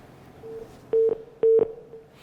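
Telephone line connecting during a live call-in segment of a Pakistani morning TV show: a steady tone with two loud paired dialing beeps in the middle, clear and close, with no talking.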